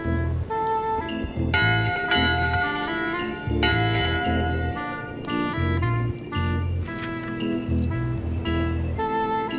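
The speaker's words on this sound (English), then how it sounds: "That's not an official bell signal?" In the Return to Monkey Island video game, a bell rings in a repeated clanging pattern of bright metallic strikes over continuous layered game music with a deep rhythmic bass line.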